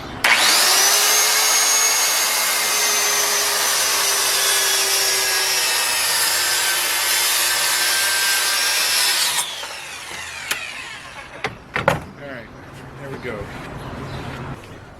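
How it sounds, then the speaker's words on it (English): A wooden board being cut down to size with a power saw, a loud steady whining cut for about nine seconds, then the tool winds down and a few clunks and knocks follow. "So next step is to cut the board so it's a little bit more manageable"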